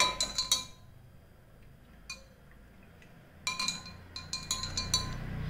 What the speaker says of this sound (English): Stir it really well.